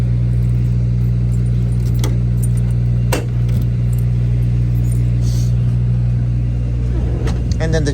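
Keys jangle in scattered bursts while someone tries car keys on a 1956 Chevrolet 210 Delray with a 4-speed, over a constant low engine hum.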